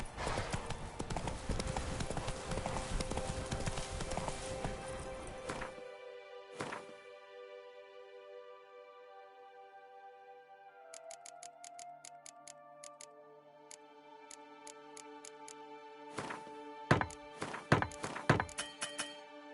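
Roach, the horse in The Witcher 3: Blood and Wine, with a dense roar of movement early on, then a quieter stretch before sharp, irregular hoof clops and thuds return toward the end. No one speaks.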